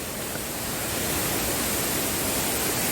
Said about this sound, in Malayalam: വെള്ളം അവിടെ നിന്ന് വീഴുന്നുണ്ട് എൻ്റെ പൊന്നെ.